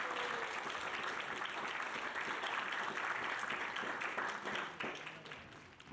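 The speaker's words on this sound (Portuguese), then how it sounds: "um caloroso aplauso para o nosso próximo palestrante, Gabriel Hofblatt." An audience at a church gathering breaks into warm, sustained applause for the next speaker, a dense wash of clapping that tapers off near the end.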